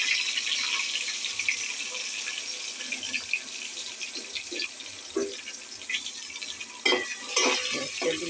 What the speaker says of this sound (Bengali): কালারটা এখন গিয়া পেঁয়াজটা দেব, পেঁয়াজটা মজবো